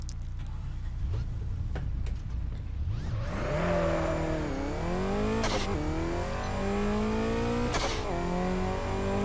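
Bugatti EB110SS in the racing game Test Drive Unlimited 2 pulls away hard, engine note climbing through revs with a shift or two and a gear-change dip, loud and continuous with no talk.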